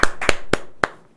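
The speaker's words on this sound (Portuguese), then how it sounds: "Palmas." A handful of sharp hand claps from what sounds like a single person, close and irregular, fading by the end.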